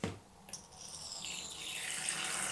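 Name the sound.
water poured into tarantula enclosure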